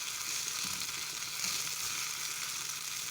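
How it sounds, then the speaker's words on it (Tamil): Onions and curry leaves sauté in hot oil in a pan for Madurai-style mutton kulambu, giving a steady, close, bright sizzle with faint stirring beneath it and no talking. "நல்லா வதக்கி விட்டுக்கலாம்"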